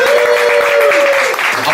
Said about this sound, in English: Applaud now.